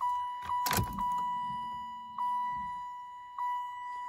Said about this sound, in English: Lots of dinging again.